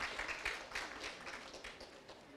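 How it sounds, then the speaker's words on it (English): A conference audience at the CILT India Expo 2019 gives sustained applause welcoming a panel, with dense, even clapping throughout, fairly faint and distant. "Please welcome with a huge round of applause, ladies and gentlemen."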